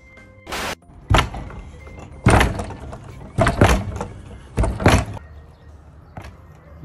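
A door is banged hard several times at home, heavy thuds and slams arriving in uneven bursts, loud and close, with a short pause between each group.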